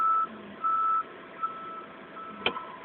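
Forklift reversing alarm: a few intermittent high beeps of uneven length, moderately near, with a short sharp knock near the end and no talk.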